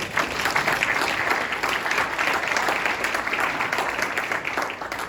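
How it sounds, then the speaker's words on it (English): Steady applause from an audience at a gathering fills the whole stretch, dense and even clapping from many hands at moderate distance, with no pause and no talk over it. "You can all join me in clapping for them"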